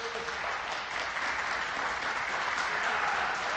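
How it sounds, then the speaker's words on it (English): Both team benches clapping at a school basketball game, a steady wash of applause filling the gym evenly throughout with no breaks. "both benches clapping."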